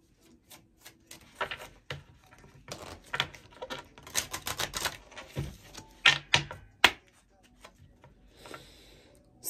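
A tarot deck is shuffled close by, heard as a long run of quick, irregular riffling clicks and taps in uneven bursts with short pauses and a faint voice in places.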